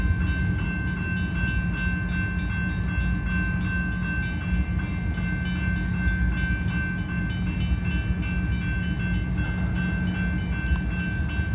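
Union Pacific 8860 locomotive slowly leads an outbound manifest freight train past a grade crossing, a steady heavy diesel rumble with rolling wheel noise and faint rhythmic clicking, continuous and fairly close.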